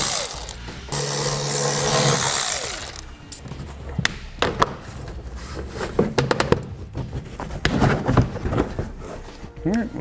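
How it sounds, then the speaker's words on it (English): A ratchet fitted with a T15 Torx bit removes bolts during a Curt custom fifth wheel installation kit setup on a Chevy/GMC truck. A loud continuous ratcheting burst comes first, followed by repeated shorter clicking bursts and metallic handling noises at close range. "You'll want a T15 Torx bit for them, and just get them pulled out of there."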